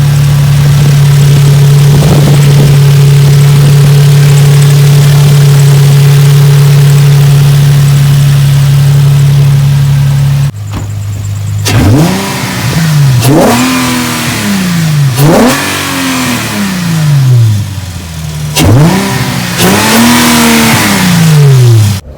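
A Nissan G35 with a VQ35DE engine idles with a steady close drone, then after a brief drop the revs are blipped about four times, each rising and falling sharply and loudly.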